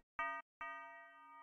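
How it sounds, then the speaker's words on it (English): Two bright bell hits in a Jersey drill beat: a short clipped strike, then a second that rings out with a sustained metallic tone, alone and clear. "last but not least, the signature Sweepers bell"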